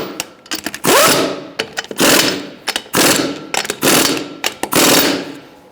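Wheel lug nuts on a 2012-2017 Hyundai Accent being tightened with an impact tool and 21mm socket, loud repeated rattling bursts of hammering in several short runs with brief pauses between.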